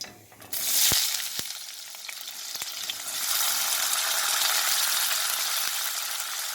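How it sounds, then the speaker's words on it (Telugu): Onion goes into hot oil in a pan while a masala ridge gourd curry is cooked, giving a steady, bright sizzle that swells after a few seconds, broken by a few sharp clicks and taps nearby. "ఇప్పుడు ఉల్లిపాయ వేసుకోవాలి"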